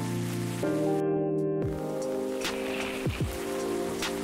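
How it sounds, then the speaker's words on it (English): Steady rain pours down in the game Coffee Talk, a soft continuous hiss with faint patter over a low looping music bed, no voices present. "It is raining cats and dogs."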